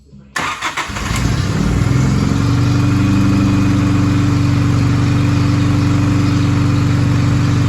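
A straight-piped car engine cranks, fires and settles into a loud, steady, rumbling idle that sounds close by.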